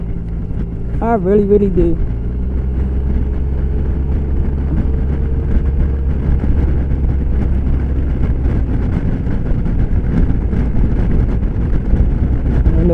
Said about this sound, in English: the wind is blowing and it's kind of chilly